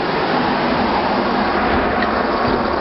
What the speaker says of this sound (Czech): Teče voda a splachujeme.